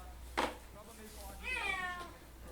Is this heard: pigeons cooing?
no